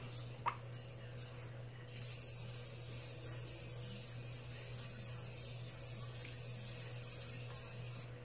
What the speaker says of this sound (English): I'm going to use my Morphe Continuous Setting Mist.